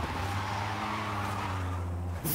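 Car wheelspin in the Forza Horizon 5 racing game, a high-torque car spinning its tires: a continuous loud tire squeal over a droning engine, steady until it cuts off at the end.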